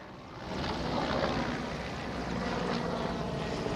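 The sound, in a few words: helicopter carrying Prime Minister arriving in Pune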